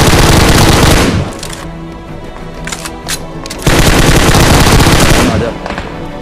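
Dense automatic gunfire from the mobile battle-royale game PUBG Mobile, loud, sustained bursts with a brief lull in the middle before firing resumes, faint voices chatting underneath.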